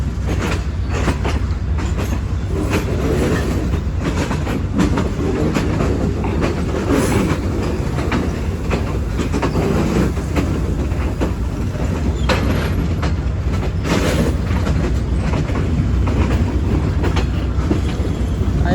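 A passenger train runs on rails at night between Karachi and Nawabshah, heading toward a bridge over the Indus, with a loud, steady rumble and rhythmic wheel clatter throughout and no voices.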